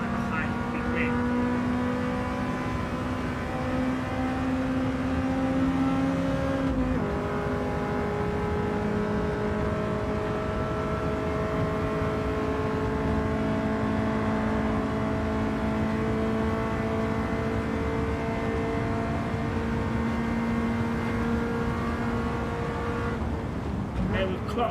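A race car in Gran Turismo 7 holds a high, steady engine drone at top speed on a high speed ring, with one brief gear-change dip early on, continuous and loud throughout.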